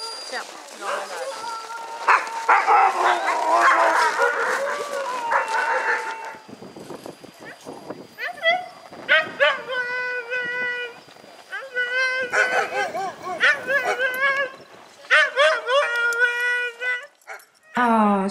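Sled dogs bark, yip and whimper in repeated excited bursts, with high whining cries and howls mixed in, close and loud, while people talk over them.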